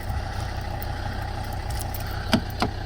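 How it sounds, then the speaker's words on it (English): A Volvo car engine idles with the doors locked and the key removed, a low steady hum with a couple of faint clicks or jingles near the end. "the car is now secure with the engine running"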